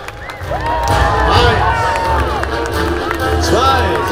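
A large outdoor crowd cheers and shouts together at a knight tournament show at Schloss Thurn, a loud and sustained roar with an announcer's voice carrying over it.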